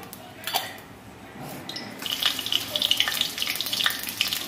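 Mustard oil pours into a pan with two green chillies. A faint clatter gives way to a rising, crackling sizzle that continues to the end.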